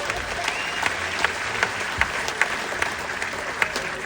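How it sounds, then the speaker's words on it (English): Audience applauding a couple at a live comedy show, a steady wash of clapping with sharper individual claps standing out, fairly loud and continuous throughout. "Give this gorgeous couple a round of applause."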